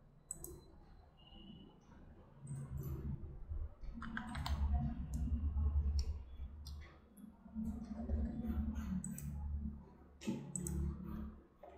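Computer mouse clicks and keyboard keys sound in scattered bursts, close and fairly quiet, with soft handling noise between them.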